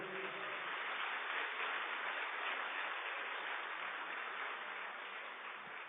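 A church congregation applauds in a continuous, even burst of clapping that fills the room, with a voice briefly audible at the very start.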